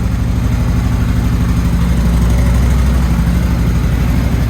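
A Harley-Davidson motorcycle engine idles while warming up, a loud, close, steady low rumbling throb with an even pulsing beat throughout.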